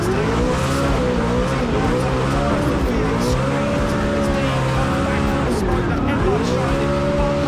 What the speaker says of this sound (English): that Ford Mustang Spec 5 Drift Masters car on the line